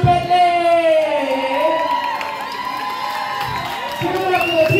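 A drag show audience cheers and whoops loudly and continuously for a performer, with shouts and scattered applause filling the room and a voice calling out over the crowd.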